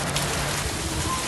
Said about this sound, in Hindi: दूसरी जानिब कराची समेत सिंध भर में बारिश हो रही है।